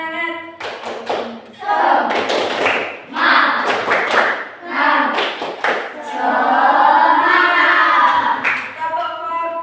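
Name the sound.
group rhythmic clapping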